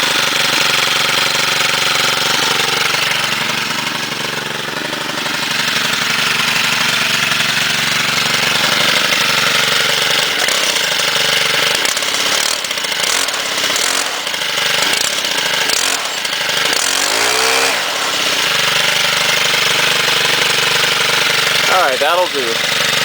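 Several STIHL chainsaw engines cold-start and run, giving a loud continuous roar with choppy revving and sputtering bursts toward the end, nearby and dominant, with speech under the engine noise.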